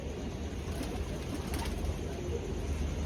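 Domestic pigeons of old Indian breeds cooing in a large breeding loft, a soft continuous murmur of low coos layered over a steady background hum, with no talking.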